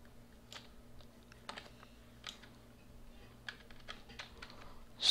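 Computer keyboard typing during a Minecraft KitPVP game session, a steady run of close, crisp key clicks with a few louder strokes, no voices.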